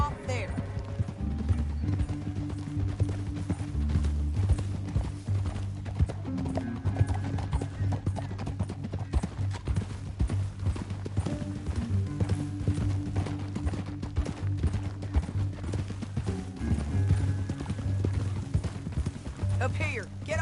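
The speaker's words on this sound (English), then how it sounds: "get off your horse." Horse hooves in Red Dead Redemption 2 clop rhythmically and steadily at speed, a continuous galloping beat under game music and a character's speech.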